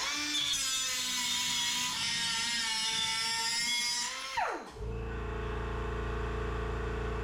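A McGraw 3-inch air cut-off tool, run from a 20-gallon Husky air compressor, cuts through a 1/4 inch bolt with a loud, high, harmonic whine for several seconds. The pitch then sweeps sharply down and gives way to a low, steady compressor hum.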